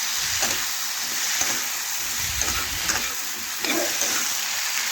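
Vegetables with turmeric and red chilli powder are stirred in a hot frying pan, a steady sizzle with soft scraping strokes of the spoon underneath, close and continuous without talk.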